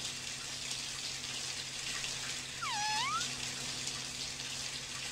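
A cat meows once in a simple hangout video game, a short rising-and-falling call heard mid-clip over a steady background hiss and running-water noise.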